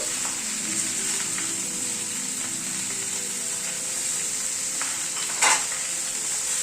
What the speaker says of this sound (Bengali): নুন হলুদ দিয়ে সবজিটাকে একটু নাড়াচাড়া করে দিচ্ছি